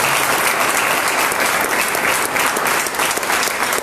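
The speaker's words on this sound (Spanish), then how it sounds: "Denle un aplauso a Dios," Church congregation at a Spanish-language service clapping loudly and close, a dense burst of applause filling the full few seconds without letting up.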